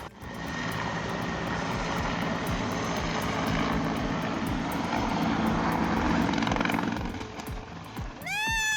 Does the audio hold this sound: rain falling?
no